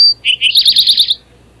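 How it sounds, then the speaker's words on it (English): An eastern towhee sings its drink-your-tea song once, two clear introductory notes followed by a rapid bright trill, close and alone in a quiet garden. "So if you hear that, you know you have a towhee in your yard."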